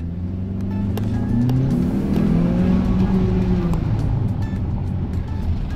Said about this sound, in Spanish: Tiene una muy buena aceleración, muy buen pique el vehículo.